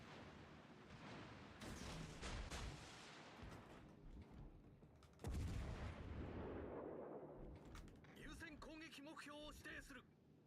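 Heavy naval gunfire from warships in World of Warships, with booming salvos and blasts rolling over a dense battle din, joined by a voice talking in the middle and a louder burst of activity near the end.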